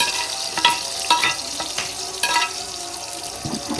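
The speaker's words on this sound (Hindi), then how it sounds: "सबसे पहले हम कढ़ाई में ऑयल डालेंगे और ऑयल में ऐड करेंगे प्याज।" Onions frying in oil in a kadai, a steady crackling sizzle with a few sharper stirring clatters spread across it, close and moderately loud, no voices.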